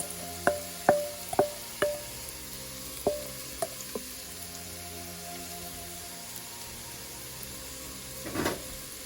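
Garlic and red onions fry quietly in a pan. Several sharp knocks of a utensil against the pan come early, a soft sizzle runs underneath, and a brief scraping burst comes near the end.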